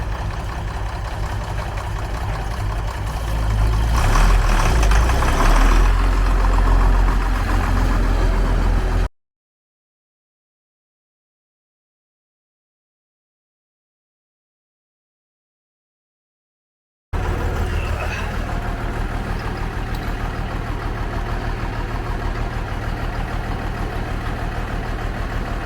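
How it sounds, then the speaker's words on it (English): An engine thought to have an airlock in its system idles steadily indoors while warming up, close and even. The sound cuts out completely for several seconds midway, then resumes. "Okay, we got it running. We actually ended up pulling inside. We think there's an airlock in the system, so we're letting her warm up."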